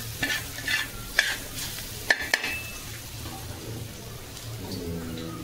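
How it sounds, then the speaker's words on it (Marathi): Grated coconut is stir-fried in a pan, giving a soft steady sizzle with a few sharp scraping clinks of a spatula against the pan, close by and with no talking. "खोबरं थोडं, चांगलं परतून घ्यायचं।"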